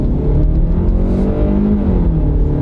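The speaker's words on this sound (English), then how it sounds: "And here comes our little acceleration test." Car floored at full throttle during an acceleration test with the automatic transmission under full load, a loud close engine roar heard from inside, climbing in pitch as revs build, with a brief shift before rising again.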